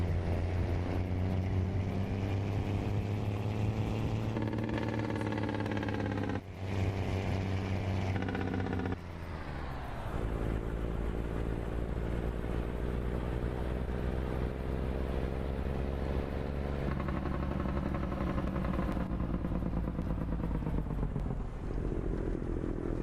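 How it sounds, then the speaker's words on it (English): A truck drives along the road, a steady loud engine and road roar with small shifts in pitch, continuous and close throughout, with no talking. "I think this is a truck that we've been following a while ago"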